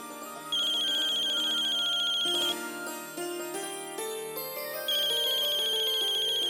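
A melodic phone ringtone plays loudly and steadily, a repeating electronic tune that shifts pitch partway through, with no voices.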